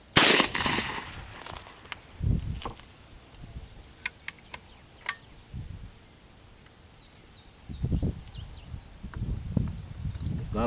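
A .45-70 rifle fired with a light Trailboss load gives one sharp, fairly soft report right at the start, followed by quiet outdoor ambience, low rumbling gusts and a few faint clicks.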